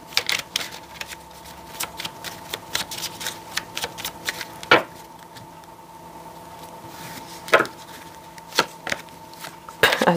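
Tarot cards are shuffled by hand in a series of quick, crisp riffles and snaps, close and fairly quiet, coming in irregular bursts over a faint background hum with no speech.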